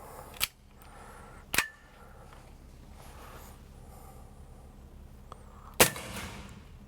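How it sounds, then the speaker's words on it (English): A Sig Sauer Spartan 1911 CO2 BB air pistol firing Crosman Copperhead BBs fires three sharp, close cracks spaced irregularly, with quiet room tone between shots. "now we're going to check the speed on the SIG 1911, the SIG Spartan 1911"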